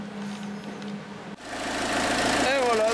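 A Peugeot 306 engine idles steadily after its engine mount has been repaired, a close, continuous mechanical drone that grows a little louder and fuller partway through, with a voice speaking over it.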